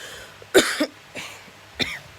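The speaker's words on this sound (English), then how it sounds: "I've been coughing so bad" Three separate coughs ring out close by, harsh and dry, spaced unevenly with short pauses between them and no talking.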